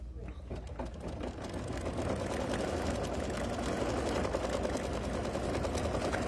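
A sewing machine stitches a Halloween boo design onto a towel with a steady, fast mechanical whirr and needle clatter that holds throughout at moderate level, close to the microphone.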